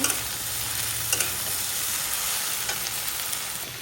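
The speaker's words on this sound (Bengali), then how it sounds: "গাইজ এখন হচ্ছে ঢেঁড়সগুলা দিয়ে দেব সবগুলো একবার দিয়ে দিলাম কিছুক্ষণ ভেজে নেব" Okra frying in a pan makes a steady, close sizzle that holds for the whole stretch, with a few soft clicks of stirring and no one talking.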